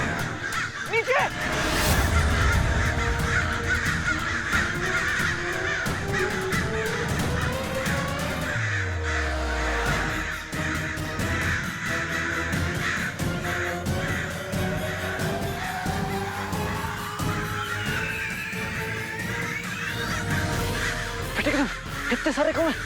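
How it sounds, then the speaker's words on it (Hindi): Crows cawing in a jungle, a loud, busy scene running throughout with repeated harsh calls over a dense, noisy backdrop of other sounds. "कितने सारे कौवे, हमें यहाँ से भागना होगा।"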